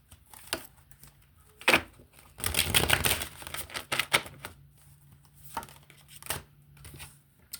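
Tarot cards are shuffled and drawn by hand, giving quiet, scattered snaps and papery rustles, with one longer flurry of shuffling in the middle. No voice is heard.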